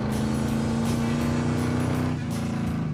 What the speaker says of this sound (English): I'm all about the wide open throttle today. It's accelerating.